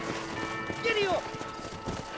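Horse hooves galloping in the Western video game Red Dead Redemption, a soft rhythmic clip-clop running under talking voices and a brief whistled tune.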